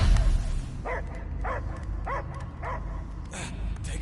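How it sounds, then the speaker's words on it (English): Repeated dog barks in a video game set in the Guardians of the Galaxy universe, a regular series of sharp barks about every half second over a low background rumble. "I hear only barking."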